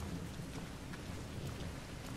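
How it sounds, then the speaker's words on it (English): Steady rain pours down with rolling thunder in the survival horror game Resident Evil Revelations 2, a continuous dense wash of rainfall with low rumbles beneath, heard alone without voices. "Here comes the rain."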